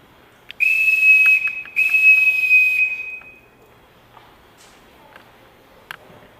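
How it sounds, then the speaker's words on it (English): A sharp, shrill whistle blown in a large household to summon the staff sounds in two long loud blasts, then gives way to quiet room tone with a few faint footsteps. "Everyone in this house answers to a whistle."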